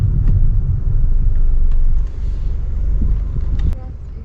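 2020 Toyota RAV4 accelerating in sports mode, a steady low engine and road rumble heard from inside the cabin, with slight wind noise and a drop in level near the end.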